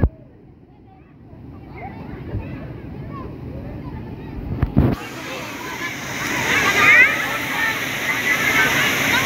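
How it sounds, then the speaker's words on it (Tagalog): The Tambuang waterfall roars as a rushing wash that swells louder midway after a brief knock, continuing steadily with faint voices of bathers and children jumping nearby. "Punta tayo dito sa waterfalls nila."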